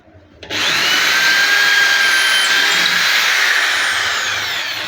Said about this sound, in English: So I started the drill and press this button.